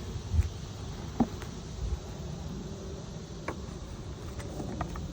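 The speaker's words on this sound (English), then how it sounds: "Definitely got bees down in there." A low, steady buzz of honey bees from a neglected hive during an inspection, faint and continuous, with occasional soft knocks and rustles from handling frames.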